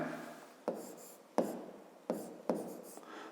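A pen writing an answer in a notebook during a fifth-grade maths exercise: four sharp strokes tapping and scratching across the paper in an irregular rhythm, close and clear, with no talking.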